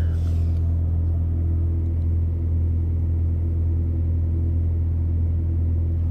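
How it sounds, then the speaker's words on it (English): A steady, low droning hum of a refrigerated trailer's reefer unit running on continuous mode, with a constant engine-like rumble that holds level throughout with no talking. "if you want to hear what a reefer sound like, this is what a reefer sound like"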